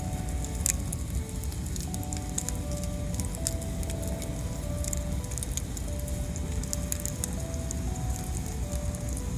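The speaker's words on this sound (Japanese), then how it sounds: "クヌギと桜が焚き火の和み系炎です。" Bonfire of sawtooth oak and cherry wood burning on a winter night, a steady dense roar with scattered sharp crackles and pops throughout, close and continuous.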